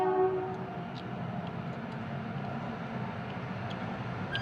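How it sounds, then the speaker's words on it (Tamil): Train rumbling past nearby with a brief horn blast at the start, then a steady low rolling roar of wheels and wagons continuing alone at moderate loudness. "இன்னைக்குன்னு பார்த்து ட்ரெயின் வந்துருச்சு, ரொம்ப சவுண்டாக இருக்கு."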